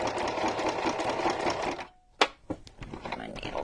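Sewing machine stitching through a country-style junk journal cover, a steady close whirring run of needle strokes that stops abruptly, followed by a sharp click and light handling noises.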